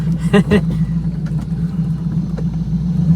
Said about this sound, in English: Oh, this car does sound amazing though, the V8.